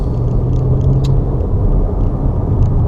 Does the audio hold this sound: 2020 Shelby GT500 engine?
yes